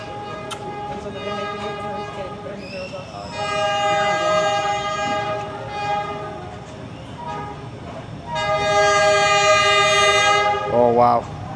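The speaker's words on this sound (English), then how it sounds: "here's the train now. I can hear it. I can hear the sirens." A train on Hanoi Train Street approaches through a narrow residential street, its horn sounding in repeated long blasts over the rumbling rail noise, growing louder as it nears, with people talking faintly beneath.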